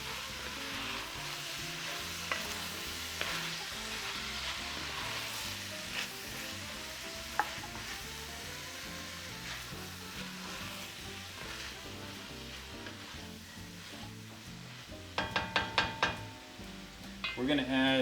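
Vegetables for Greek chicken and vegetables sizzle faintly in a pan under gentle stirring, with a quick run of metal utensil taps and clatters near the end.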